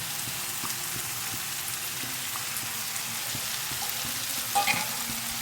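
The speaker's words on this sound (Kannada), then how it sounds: "ಇವಾಗ ಬಟಾಣಿನ ಮಿದ್ದಿ ಇಟ್ಕೊಂಡಿದ್ನಲ್ಲ ಅದನ್ನು ಹಾಕ್ಕೋತಿದ್ದೀನಿ." Mashed peas going into a hot frying pan for pav bhaji, producing a continuous close sizzle and crackle with a few soft scraping stirs and a brief clatter near the end.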